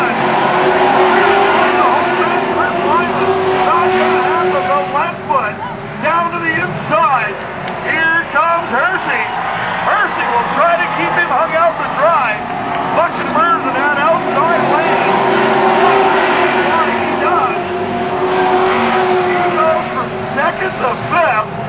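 Pro stock cars race in a feature at Canaan Speedway, their engines roaring and surging in waves around the track while an excited announcer talks loudly over them.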